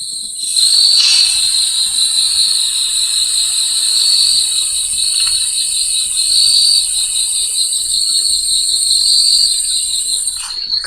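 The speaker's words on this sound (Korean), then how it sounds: "찌르르기 소리도 나지요." Cricket chirping sound effect: a steady, loud, high insect trill that runs without a break for about eleven seconds, with no voices over it.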